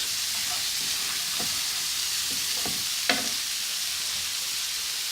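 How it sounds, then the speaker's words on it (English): Vegetable curry sizzling in a pan while being stirred, with a steady frying hiss and a few distinct scrapes and clicks of the spoon against the pan. "give it a really good stir"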